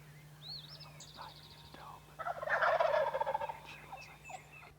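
Wild turkeys on the roost at dawn, with one sustained, rolling gobble rising loud in the middle of the clip. Softer bird chirps come before it and a faint hum runs underneath.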